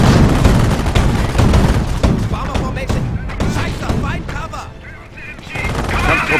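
A Panzerfaust launch and gunfire erupt in a Company of Heroes battle, with loud dense shots and blasts crackling throughout and voices talking over the combat.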